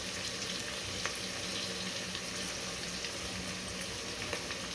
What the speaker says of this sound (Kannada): ಇದನ್ನು 1-2 ಸೆಕೆಂಡ್, 2 ರಿಂದ 3 ಸೆಕೆಂಡು ಎಣ್ಣೆಯಲ್ಲಿ ಸುಮ್ಮನೆ ಸಾಳಿಸ್ಕೋಬೇಕು